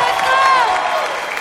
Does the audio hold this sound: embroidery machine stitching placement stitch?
no